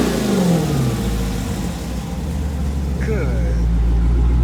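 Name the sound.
Dodge car engine revving on dyno with Borla catback exhaust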